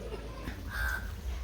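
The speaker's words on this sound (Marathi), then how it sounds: "2 कावळे आहेत तिथे." Crows cawing outdoors at a family vacation spot by a swimming area, a few harsh calls rising over steady background murmur, moderately distant.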